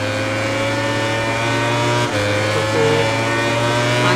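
A MotoGP motorcycle in the video game MotoGP 19 at full throttle, its engine a steady high-pitched scream toward a high-speed corner, loud and continuous with a brief gearshift dip midway.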